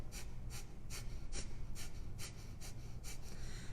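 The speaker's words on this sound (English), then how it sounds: "So it's a really quick inhale, really active exhale" Yoga breathing heard up close, with a steady run of about nine sharp nasal breaths, each quick inhale followed by an active, forceful exhale, at a fast even rhythm with no talking.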